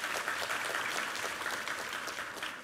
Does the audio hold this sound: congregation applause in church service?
yes